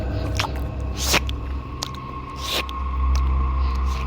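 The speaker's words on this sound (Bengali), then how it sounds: "মনে হচ্ছে কেউ কুকুর বা শেয়ালের মতো মুখ নিচু করে কাদা আর পানি চাটছে।" A cartoon-style wet squishing and lapping sound, like something licking mud and water beside a graveyard in the rain, with a low rumble underneath and repeated squelchy bursts, no talk.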